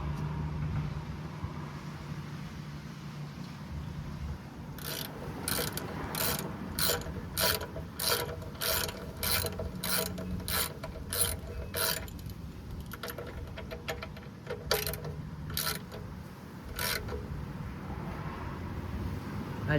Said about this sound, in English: I just like to do it until it's pretty snug when you do it with the ratchet